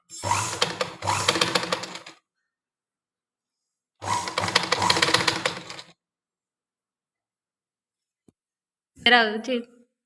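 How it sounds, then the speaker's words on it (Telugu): A sewing machine stitches a blouse in two close bursts of about two seconds each, separated by silence, and a brief voice follows near the end. "ఇప్పుడు దీన్ని మనం ఒక స్టిచ్ వేద్దాం"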